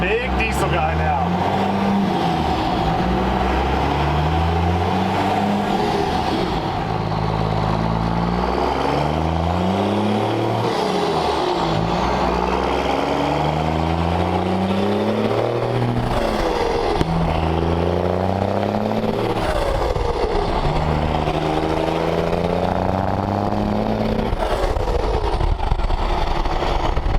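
A Cummins-swapped 1965 Ford F-600 with custom semi stacks rumbles loudly and close, its diesel revving up and down repeatedly in rising and falling sweeps, with people talking over the engine throughout.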